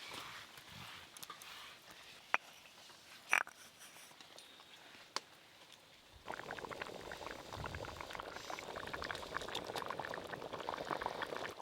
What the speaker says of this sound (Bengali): মাংসের গ্রেভিতে একদম টকবকে হয়ে ফুটে গেছে